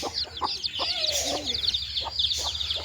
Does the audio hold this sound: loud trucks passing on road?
no